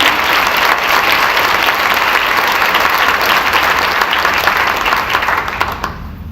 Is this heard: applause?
yes